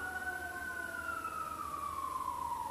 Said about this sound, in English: I'm not understanding what the sirens are about.